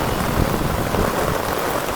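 Heavy torrential rain pours down in Surat, a dense, loud, unbroken hiss of water striking surfaces all around, with no talk.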